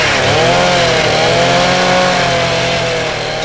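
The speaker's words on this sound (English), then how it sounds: "Boys, put the saw down." A chainsaw runs loud and close, its engine holding a steady high drone with slight pitch wavering and no voices over it.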